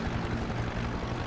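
A helicopter's rotor and engine drone steadily and loudly at close range, a continuous dense roar with no pauses and no voices over it.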